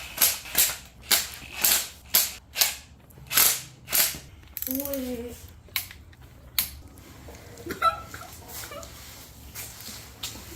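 A 454 engine crankshaft turned by hand against fresh piston rings in a workshop: a regular series of about eight sharp ratcheting clicks, then a short rubbing groan and a few scattered mechanical ticks, close and fairly loud.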